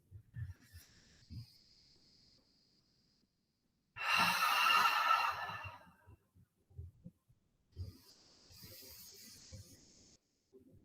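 A deep, drawn-out breath during a quiet relaxation exercise swells in the middle of a near-silent stretch, flanked by soft low murmurs and faint airy sounds.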